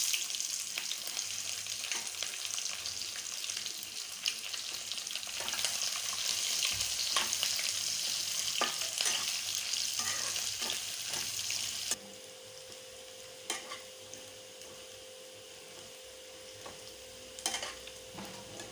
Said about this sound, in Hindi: प्याज भून चुका है